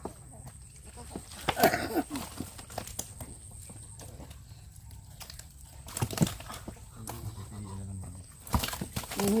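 Horse hooves clop on the ground with occasional snorts and whinny-like sounds, under a steady background hum and some nearby voices.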